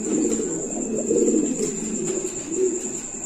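Lahori pigeons in a cage coo in low, soft, overlapping murmurs over a steady background hum, with no voices.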